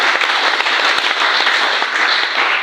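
Steady, dense clapping from a church meeting congregation fills the whole stretch, loud and close with a crackling, continuous texture and no clear pauses.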